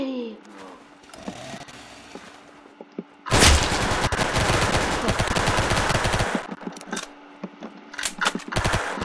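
Rapid bursts of automatic gunfire in the Roblox game Arsenal during a 1v1 match, a loud sustained volley in the middle followed by scattered shots.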